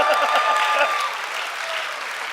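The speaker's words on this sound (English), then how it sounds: "the Golden State Warriors gets the largest cheer" Crowd applauding and cheering at a hackathon opening ceremony, a dense burst of clapping that stays loud before easing slightly.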